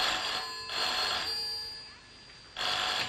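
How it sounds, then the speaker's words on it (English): An old telephone bell rings in short bursts indoors in a 1960s setting, two rings with a pause between and a third starting at the end, moderately faint and with no talk over it. "Jack, if that is for Walter Potts, tell them he cannot come to the phone."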